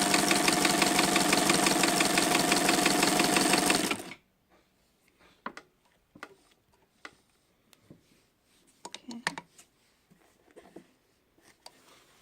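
A vintage Janome New Home sewing machine runs fast and steady with a dense, rhythmic mechanical whir for about four seconds, then stops, leaving faint scattered clicks and handling noises.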